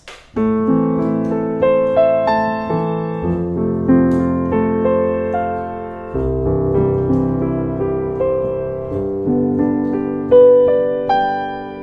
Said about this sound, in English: I'm just taking each of those notes and I'm playing them out into an arpeggio